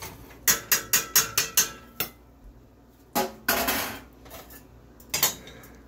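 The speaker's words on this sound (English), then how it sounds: "we might as well just go ahead and put in our tannin substitute. Give that a quick stir" A plum wine mixture with tannin substitute is stirred briskly, a fast run of about six sharp utensil clinks against the container, then a few scraping strokes and a final knock, close and without voices.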